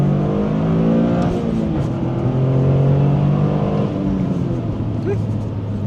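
A Toyota GR Corolla fitted with a Forge intake accelerates through the gears, its engine note rising in pitch, dropping at each shift and climbing again, loud and close with a throaty tone.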